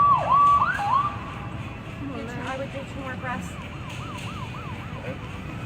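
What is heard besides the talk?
ambulance siren approaching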